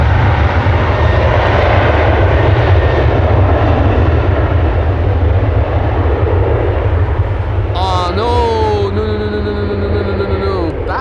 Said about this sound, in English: ITA Airways flight 121 to Milan. That is a Bombardier C-Series 100, aka A220.